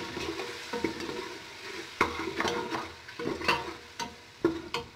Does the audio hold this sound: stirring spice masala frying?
yes